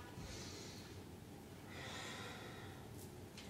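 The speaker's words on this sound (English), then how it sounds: "breath of fire" Forceful yoga breath-of-fire exhalations during a chair yoga core flow, heard as two broad breathy bursts of rapid nasal puffs over steady background hiss, close and moderately loud, with no talking.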